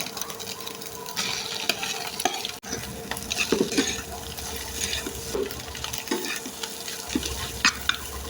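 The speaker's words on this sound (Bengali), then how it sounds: "ডিমটা ভাজা হয়ে গেছে, এখন এই ডিমের মধ্যে সবজিগুলো দিয়ে দিব।" Vegetables stirred into crumbled fried egg in a wok for chicken noodles give a steady close sizzle, with scraping spatula strokes and clinks throughout, alone without talk.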